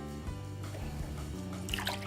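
Lemonade pours into two cups over ice with a steady liquid trickle and dribble, close by and fairly soft, over a faint tonal background hum.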